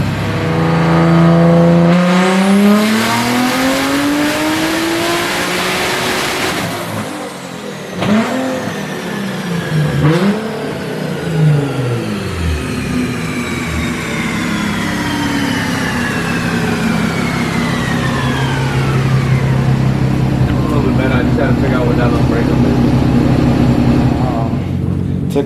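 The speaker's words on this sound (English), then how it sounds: "we're gonna finish dyno tuning it now" A twin turbo Nissan G35 engine revs hard on a dyno, repeated loud rising pulls climbing and falling in pitch with turbo whine, close and roaring with little pause.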